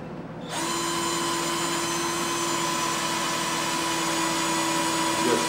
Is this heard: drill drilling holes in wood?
yes